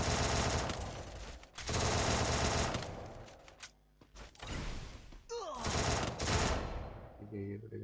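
Rapid automatic gunfire bursts in a video game, loud and repeated in several long volleys with short gaps between them.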